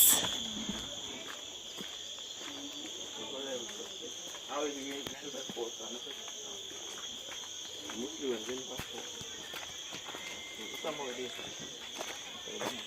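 Crickets chirp at night in a continuous high-pitched drone while people talk quietly nearby, with occasional rustling footsteps.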